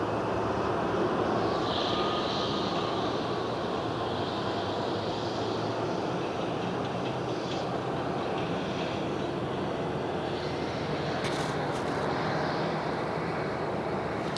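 Jet airliner engines spooling up at Phoenix airport, a steady loud broadband roar and whine that holds throughout with faint higher-pitched tones toward the end.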